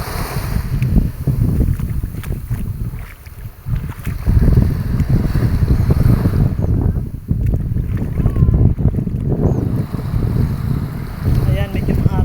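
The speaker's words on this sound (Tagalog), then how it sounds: "Ayan yung dagat, pahampas-hampas." Sea waves breaking on an island beach at Pass Island under strong wind: a continuous loud rush of surf and buffeting wind noise on the microphone, steady for the whole stretch with no clear voices.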